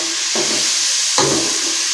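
Onions fried golden brown in hot oil are lifted out, with a constant close frying hiss and two brief scraping stirs, loud and steady, with no voices.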